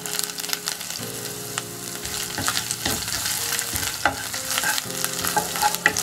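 Chopped coriander leaves and other ingredients for a potato and flour snack fry in a pan, with a loud, continuous sizzle broken by frequent stirring scrapes and spatula knocks, with a low hum underneath.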